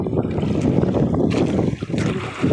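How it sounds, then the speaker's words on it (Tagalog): Strong wind buffets a boat out at sea, a loud roaring gust with microphone rumble and the wash of water that surges and briefly dips before rising again. "Hangin."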